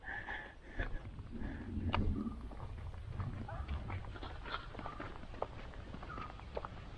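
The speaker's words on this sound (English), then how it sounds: "A running cow." A cow runs along a street in India, its hooves clopping in an uneven patter at moderate distance beneath a general outdoor background hum.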